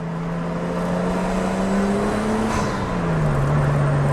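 A Nissan Skyline R33 with a 2.5-liter RB25 engine idles and hums steadily, its low drone dipping slightly in pitch midway, with a faint whir above it.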